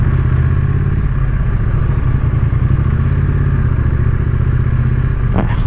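A Triumph Street Twin motorcycle engine drones steadily and loudly while being ridden, a close, continuous mid-pitched rumble with wind and road noise.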